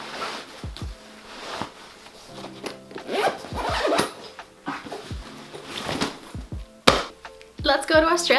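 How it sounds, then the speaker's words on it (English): A Monos suitcase being zipped shut, with repeated short zipper rasps and rubbing, handling noises and faint breathy voice sounds close by. "the next step is to zip this suitcase"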